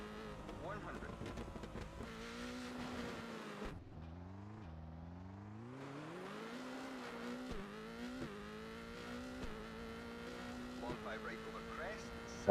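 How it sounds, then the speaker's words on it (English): Subaru car engine in a racing video game, revving up and down through rising and falling pitch sweeps with brief drops between shifts, steady and fairly close. "I like the sound which the Subaru engine makes"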